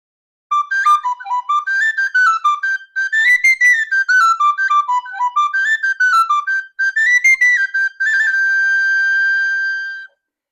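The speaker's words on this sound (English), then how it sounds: "My littlest, one of my favorites too, is a high G whistle" A high G Irish tin whistle plays the jig-like tune Father O'Flynn, bright, clear phrases of quick notes heard close and alone, ending on a long held note.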